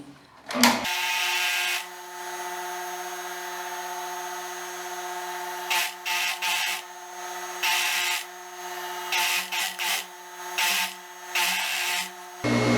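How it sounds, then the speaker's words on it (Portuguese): A sewing machine stitches a seam on a knit fabric blouse, humming steadily and loudly throughout with brief pauses and restarts in the motor's whir. "vou passar a costura"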